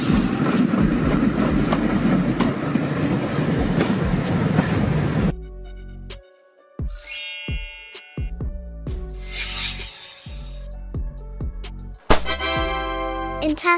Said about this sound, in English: Railbus, a lightweight passenger rail vehicle designed to operate on railway lines